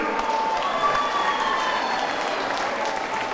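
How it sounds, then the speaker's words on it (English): Crowd at a bare knuckle boxing main event applauds the two competitors, a dense, sustained wash of clapping with light cheering mixed in, steady and loud across the arena. "another round of applause for these two main event competitors tonight"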